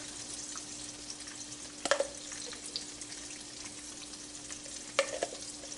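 Hot sauce and mayonnaise stirred together in a bowl, with soft continuous scraping and a couple of brief sharper clinks of the spoon against the bowl, close and fairly quiet.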